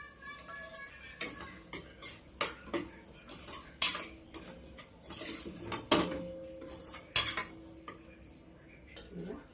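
A spoon clatters and scrapes against a pan as baingan bharta with ghee and chopped coriander is stirred, sharp irregular metallic knocks over a faint sizzle.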